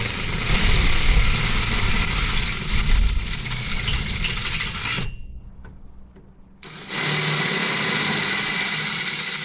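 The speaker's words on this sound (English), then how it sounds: "Drill the hole out to final size." A drill bores a hole out to final size in a log dog part held in a vise, a loud steady whirring grind that stops for a couple of seconds and then starts again at full strength.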